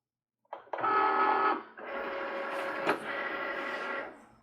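A Cricut cutting machine pulls a cutting mat loaded with cardstock for business cards, whirring loudly and close in a short motor burst, then a steadier feed hum for a few seconds with one small knock.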